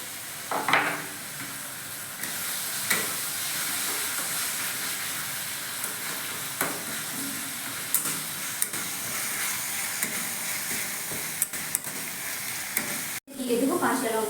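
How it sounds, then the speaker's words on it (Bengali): Ginger-garlic paste fries in a pan with onions and tomatoes for yoghurt chicken, giving a loud, continuous close sizzle and hiss. Stirring scrapes and clicks recur throughout, with a brief gap before the clatter resumes. "টমেটো ভাজা হয়ে এসেছে, এবার আমি দিয়ে দেবো আদা রসুন বাটা।"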